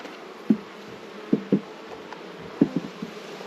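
Honeybees buzz around an opened beehive as a faint steady hum, broken by several sharp close knocks and taps from handling the hive frames.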